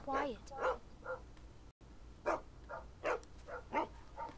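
A dog barking in The Walking Dead Season 2 video game, a series of short, sharp barks and yips at close range, repeated in uneven bursts with a brief gap midway.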